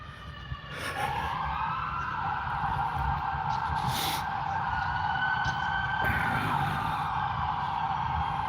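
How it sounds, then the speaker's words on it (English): Emergency vehicle sirens wail steadily at moderate distance as police and ambulances leave a Huntington Beach pier water rescue, a sustained rising-and-falling tone over traffic and crowd noise. "They were leaving with their sirens on with the police."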